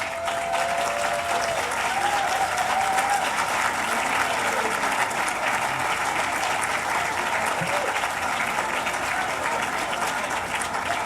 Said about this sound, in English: Could you all please stand and let's give them a round of applause?